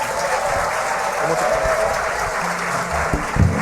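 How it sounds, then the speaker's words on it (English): Steady applause from a crowd, a dense wash of clapping that holds evenly throughout, with faint voices mixed underneath. "Let's give them more applause."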